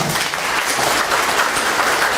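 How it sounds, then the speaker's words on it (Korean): Steady applause from a crowd at a seminar, dense clapping that holds evenly throughout without any talking. "박수를 한번 부탁드리겠습니다"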